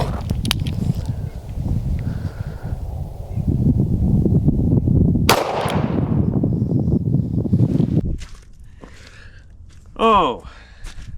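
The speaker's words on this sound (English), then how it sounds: "38 special out of a 2-inch stubby" A .38 Special fired from a 2-inch snub-nose revolver into a ballistic gel head gives one sharp, loud outdoor crack with a short tail. People talk before and after it.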